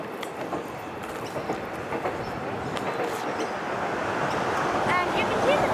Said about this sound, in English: And you can see the train going by.